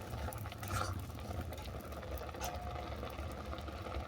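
Milk simmers and bubbles steadily in a pan, giving a faint, continuous low bubbling and soft patter with no pauses.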